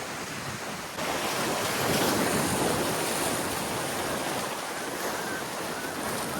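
Sea waves wash onto the shore by a coastal village near Alibag, a loud continuous roar of surf mixed with wind buffeting the microphone, swelling slightly and never pausing.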